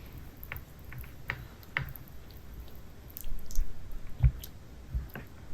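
Small whisk stirring thick gateau chocolat batter with too much hot water in it, producing irregular soft clicks and wet squishing taps, growing louder and busier toward the end, with no voices.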